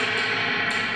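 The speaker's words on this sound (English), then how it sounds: "a small demonstration of how you shake a reverb tank" A Fender tube spring reverb tank being shaken produces a dense, washy metallic crash, rattling and ringing continuously, loud and distorted, with no voices.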